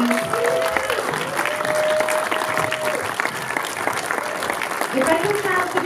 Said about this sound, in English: let's do one more round of applause for this amazing documentary